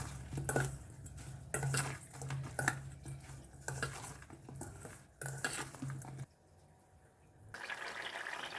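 Tamarind pulp with salt and asafoetida is stirred in a metal pot, a spoon scraping and clinking against the sides in rhythmic strokes. A short lull follows before the stirring starts again, close and clear, with no talk.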